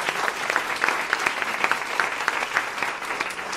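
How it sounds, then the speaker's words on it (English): An audience claps steadily, a dense patter of many hands applauding at moderate volume throughout. "I think you can clap."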